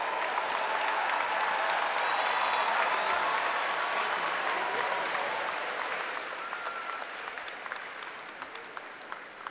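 Broad, steady applause from a large commencement audience at a university graduation, holding strong before gradually tapering into lighter scattered clapping.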